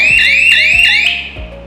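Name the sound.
magnet-triggered alarm of a rope fence for elephant intrusion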